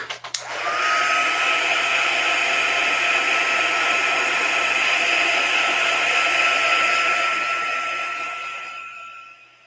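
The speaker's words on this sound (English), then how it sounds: "Going to heat dry it, and then we will color." A heat tool blows onto an artist trading card to dry black ink, a loud steady whooshing whine that switches on, holds evenly for several seconds and fades as it shuts off, close by.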